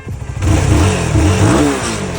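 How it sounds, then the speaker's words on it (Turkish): Motorcycle engine revving through repeated throttle blips, a loud continuous rising and falling engine roar close by with no talk. "Motorcular neden sürekli ara gaz verir?"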